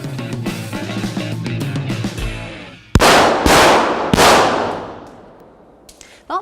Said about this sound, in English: when you walk in, you should expect people to be shooting